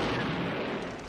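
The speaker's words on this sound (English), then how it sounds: "Just Charles Bronson manhandling a freaking M1919" A dense burst of M1919 machine gun fire from a Death Wish film trailer, rapid and continuous with a booming, smeared rumble, heard briefly and at moderate level.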